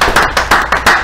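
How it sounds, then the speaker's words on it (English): Small studio audience clapping for boxing brothers on a talk-show set, a few close, loud, rhythmic claps in quick succession, alone without speech. "Let's get them a round of applause."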